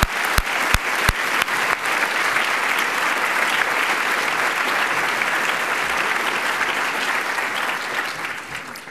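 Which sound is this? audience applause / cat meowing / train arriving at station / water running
audience applause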